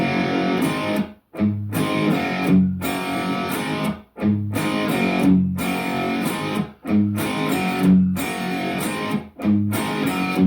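Electric guitar chugs through a palm-muted riff at a slowed pace, in repeated bursts broken by short gaps, fairly loud and close with no talking.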